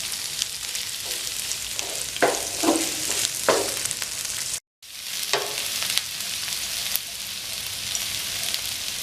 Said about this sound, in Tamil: ஒரு 3 பச்சை மிளகாய், நல்லா வதங்கட்டும்.